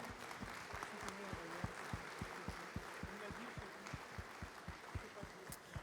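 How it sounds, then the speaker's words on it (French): An audience at a cooking event claps steadily together in a rhythmic, even beat, with faint background murmur. "On peut applaudir Pascal Baudin, s'il vous plaît"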